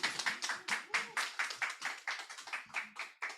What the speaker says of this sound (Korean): 교수님 나오실 때 박수 부탁드립니다.